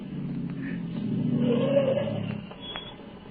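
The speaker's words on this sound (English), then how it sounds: "And then I heard another sound on the road. There was a car coming." A car approaches along a road, its engine rumbling low and swelling as it draws nearer before easing off, a muffled, narrow-band sound with no talking.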